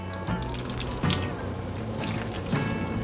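Starchy pasta cooking water pours steadily into a pan for a gnocchi sauce, close by and continuous, with a few splashy bursts.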